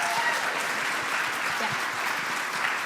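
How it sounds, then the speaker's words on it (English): An audience at a weekly meeting gives panelists steady applause, a dense, even patter of clapping that carries through the whole moment without letting up. "Give a round of applause to our panelists."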